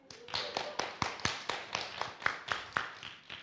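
A small audience at an annual meeting claps in a sparse, uneven rhythm, roughly a dozen distinct hand claps spaced evenly, fairly close and moderately quiet.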